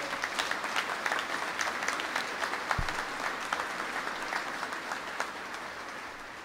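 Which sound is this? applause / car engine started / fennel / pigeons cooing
applause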